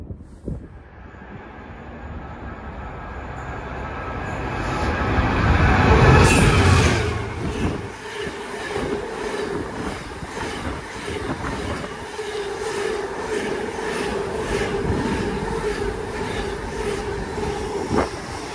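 Trains pass by on rails with a rolling clickety-clack and a brief wheel squeal. The sound swells to its loudest near the middle, then continues as a steady rumble of passing wagons.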